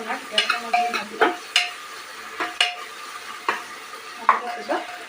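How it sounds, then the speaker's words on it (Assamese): Onions frying in a pan while being stirred until they turn lightly brown, with loud repeated scrapes and clatters of the spoon over a steady, moderate sizzle, close up and with no voices. "তেতিয়ালৈকে পিঁয়াজখিনি নৰঙচুৱা নহয় অকণমান বাদামী কালাৰটো নহয় তেতিয়ালৈকে মই ভাজি ল'ম"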